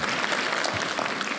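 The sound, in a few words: audience applause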